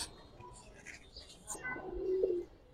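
Giribaz and silver pigeons coo faintly amid scattered rustling, with one clearer, low, drawn-out coo near the end; quiet murmuring may be present.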